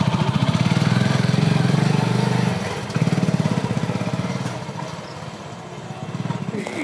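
A nearby motorcycle engine runs with a loud, rapid pulsing chug that dips and surges as the throttle changes. Voices sound faintly in the background.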